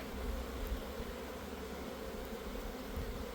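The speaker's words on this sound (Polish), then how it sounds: "chyba połączone z oblotem, bo tak krążą przed wylotami" Many honeybees fly around the entrances of strong colonies during an orientation flight, making a steady, dense buzzing hum that holds throughout, with no talk.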